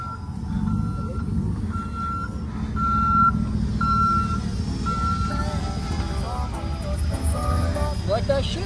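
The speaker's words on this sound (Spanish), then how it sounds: "Oigan el tractor." A semi truck rumbles nearby while its reversing alarm beeps in a regular series. Voices talk faintly under the engine noise.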